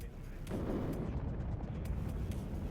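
F-16 cluster bomb explosions in the military strategy game WARNO, a low rumbling cluster of muffled blasts rolling together, with a few faint sharp pops on top, moderately loud and continuous.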